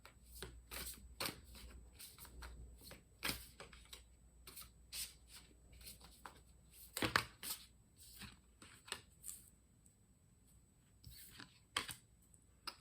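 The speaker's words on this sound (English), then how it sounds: "We're going to keep shuffling." Tarot cards are shuffled repeatedly in quick riffling bursts and soft slaps, close and fairly quiet, with brief pauses between rounds.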